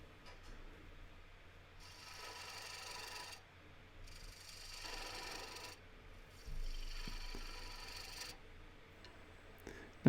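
A woodturning gouge cuts the foot of a wooden bowl on the lathe, giving soft rasping scrapes in repeated passes with short gaps between them. The sound is quiet and close, with no speech.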